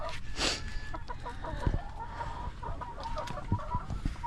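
Hens cluck on a farm during egg-laying, with a steady stream of close, overlapping clucks and short squawks over a busy background.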